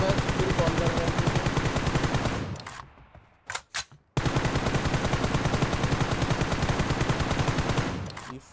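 Gunfire in the video game BGMI: a dense rapid automatic burst, a pause with a few isolated shots, then another long sustained burst, loud and close.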